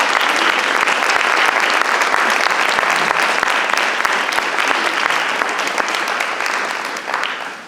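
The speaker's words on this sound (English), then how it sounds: "if you could put your hand up or stand up so we can clap for you" Audience at a fellowship service celebration claps for their mentors in a steady, dense round of applause that fills the room, then begins to thin out near the end.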